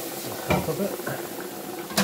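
Flour gets stirred into onions sizzling in a soup pot for homemade pumpkin soup, a steady soft sizzle broken by two sharper scrapes of the spoon against the pot.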